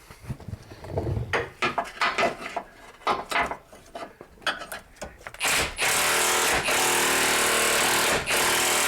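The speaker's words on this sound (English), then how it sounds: "All right, I got another Pitman Arm puller." A Pitman arm puller works on a GM truck's steering linkage to remove the Pitman arm, first with rapid irregular clanks and ratcheting taps, then a loud, steady mechanical whir that runs to the end.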